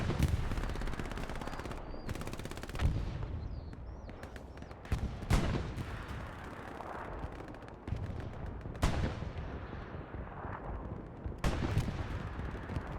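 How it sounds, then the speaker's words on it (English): Gunfire and battle noise in the World War II shooter Hell Let Loose during a championship match: repeated sharp rifle and machine-gun bursts crackle across a busy, loud battlefield, with near shots punching out over constant distant firing. "Boomer gunning down Kaiser, almost missing him."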